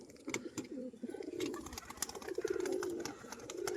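Pigeons kept for flying coo repeatedly and close by, their soft throaty calls rolling on continuously, with light rustling and scattered clicks around them.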